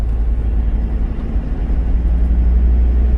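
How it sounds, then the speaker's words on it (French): A car accelerating steadily through a bend gives a close, steady low engine drone that holds an even, rumbling tone for the whole stretch, with no talk. "petite accélération soutenue tout le long du virage"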